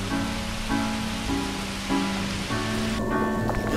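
Heavy rain pours down on a bikepacking trip, a dense, steady roar of water under shelter, loud and continuous with a faint tonal hum running underneath.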